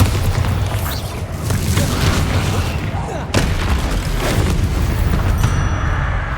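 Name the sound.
Bombarda explosion spell in Hogwarts Legacy video game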